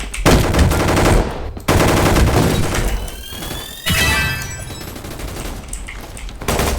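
Rapid machine gun bursts from a Roblox Gunfight Arena match rattle loud and close, with sustained volleys broken by brief pauses and crashing impacts mixed in.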